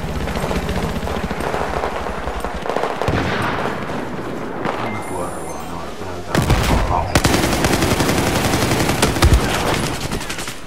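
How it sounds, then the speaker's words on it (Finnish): Rapid automatic gunfire in Battlefield 4 multiplayer fills the scene with dense bursts, several sharp loud volleys and continuous rattling close by, with a player talking over it. "Mä ammun sinne."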